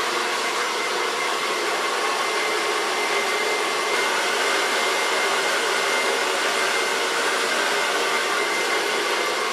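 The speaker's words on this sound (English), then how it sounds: "we're going to blow dry it with a large brush" A hair dryer blows a continuous, even hiss while hair is dried with a large round brush, loud and close, with only faint changes in the airflow and no talking.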